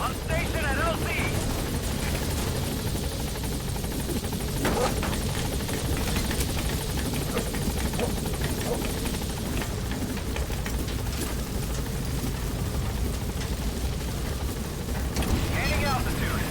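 The B-Quad helicopter sets down at a landing zone in Metal Gear Solid 5, its rotor producing a constant loud whirring thrum with rumbling low end throughout, while radio voices speak over it.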